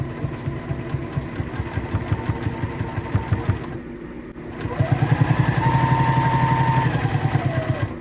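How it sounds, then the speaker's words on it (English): A sewing machine with a zipper foot stitches a quilted zipper pouch in quick bursts of rapid mechanical stitching, pausing briefly in the middle before starting again, louder and steadier, close by. "take it over to the sewing machine, and again, with our zipper foot, sew our sandwich together"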